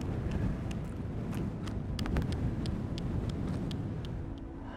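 Gusty wind buffets the microphone outdoors during landscape photography, low rumbling blasts, scattered clicks and rustles over a continuous roar.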